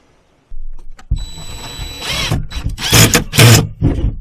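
A power drill drives screws into a wooden deer blind, with several loud, close whirring bursts that rise in intensity toward the end, following a brief quiet start.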